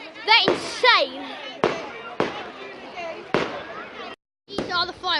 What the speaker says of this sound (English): These are the fireworks.